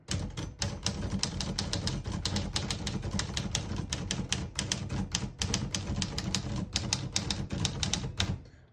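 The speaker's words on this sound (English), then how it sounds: "I'll type a sentence on the next line." A 1953 Smith-Corona ultra-portable typewriter typing a sentence, with rapid, close keystrikes clacking in quick irregular bursts, ending in a final pause.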